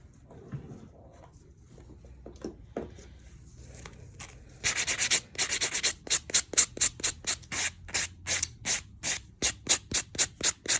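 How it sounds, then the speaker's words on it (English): Quick rhythmic rubbing strokes buff a nail, starting with scattered scrapes and settling into a fast, steady back-and-forth scratch up close. "I'm gonna go ahead and buff that"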